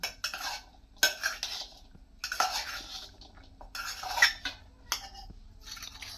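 A spoon clinks and scrapes around a pot while ingredients are mixed for a corn-cob recipe: bursts of metallic stirring and tapping come in separate spurts with short quiet gaps, close and alone.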